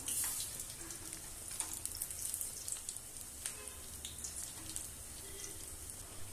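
Urad dal vada deep-frying in hot oil gives a quiet, steady sizzle with scattered crackles and pops, heard alone at close range.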